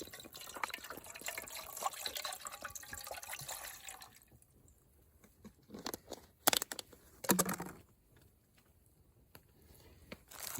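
Water poured into a pot for noodle soup cooked over a Swedish fire torch outdoors, a steady splashing fill for several seconds, then quiet with a few sharp clanks and drips nearby.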